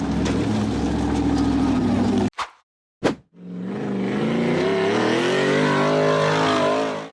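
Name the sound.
off-road buggy engine revving up a steep dirt hill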